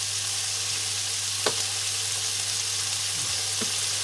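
Meatballs frying in a pan as part of a meatball and garlic bread traybake: a steady, even sizzle of hot fat throughout, with a couple of faint clinks and scrapes, no talking.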